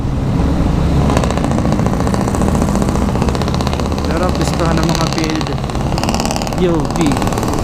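Several motorcycles idle and rumble in a motorcycle lane on a road at night, a loud steady engine drone throughout with passing vehicle noise and some talking.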